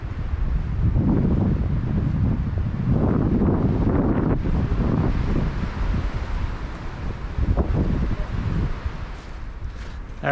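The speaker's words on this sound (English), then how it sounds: "Winds are really high right now." Strong, roaring wind from an approaching storm in Colorado buffets the microphone outdoors among trees in continuous gusts, loud and rushing throughout with no clear pauses.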